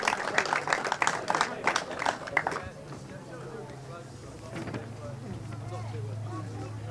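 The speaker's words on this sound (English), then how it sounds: "please, one final round of applause for your Micromax finalists and E-plate winners" Crowd applause for Micro Max and E-plate kart race finalists at a British kart championship event at Whilton Mill, a burst of clapping over the first two and a half seconds that fades into a low engine-like hum and murmur.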